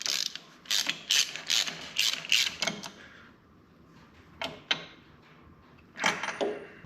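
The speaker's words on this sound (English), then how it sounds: "Give it a couple cranks, see how it feels." An old Caterpillar engine that has sat for nearly fifty years is hand-cranked, producing bursts of ratcheting, clicking mechanical strokes in an uneven rhythm, separated by quiet pauses, close by.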